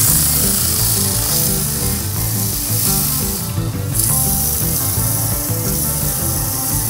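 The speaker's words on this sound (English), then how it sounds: "I'm going to start with my rough grit sandpaper and just sand the outside" Sandpaper rubs steadily against a spinning wooden bowl, a continuous scratchy hiss over the low hum of a lathe motor.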